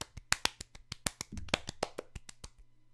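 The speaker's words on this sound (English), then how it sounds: "That was the worst round of applause I've ever heard from you before." A small, sparse round of applause: a handful of sharp, separate claps in an uneven rhythm, close and thin, fading out after a couple of seconds.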